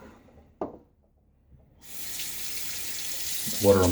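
After a quiet moment with a small knock, water starts running from a tap in a steady hiss, with a brief splash near the end.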